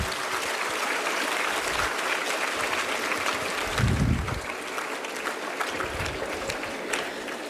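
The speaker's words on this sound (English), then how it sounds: "please give a round of applause for the wonderful effort put in by all our students" Students and staff at a school Teachers Day gathering keep up a steady round of applause, moderately loud throughout, with a brief low thump partway through.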